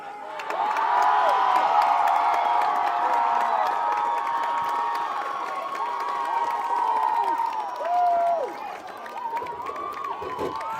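A varsity football crowd cheers and whoops continuously in the stands, a loud sustained roar with children's shouts mixed in, dipping briefly near the end before swelling again.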